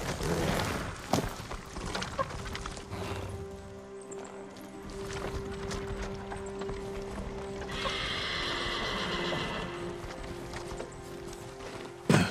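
Horses gallop with steady clip-clop hoofbeats in the samurai video game Ghost of Tsushima, and a whinny rises over a continuous layer of game ambience and music, with rattling mechanical noise partway through.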